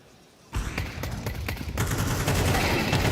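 Pistol shots from a USP in a Counter-Strike match at the PGL Cluj-Napoca 2025 quarterfinals, beginning abruptly after a brief quiet. A dense burst of repeated sharp shots follows, with more gunfire layered under loud in-game noise.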